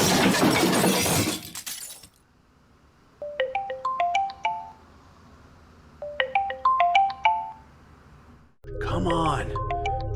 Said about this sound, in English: Come on, Elora. Answer your damn phone.